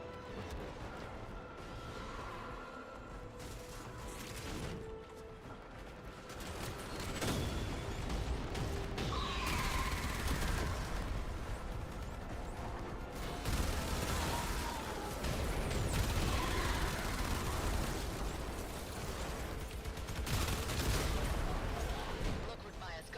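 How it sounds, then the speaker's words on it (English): Heavy cannon fire from a Macros cannon in the video game Warframe, loud repeated booms and bursts layered over dense battle noise and music, with a voice talking over parts of the action. "Hear that Macros cannon?"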